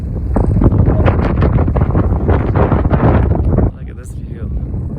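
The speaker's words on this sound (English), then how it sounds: "Windy up here." Strong gusting wind buffets the microphone at a high outdoor viewpoint, a loud continuous roar that drops off abruptly near the end, leaving quieter rustle with a brief voice.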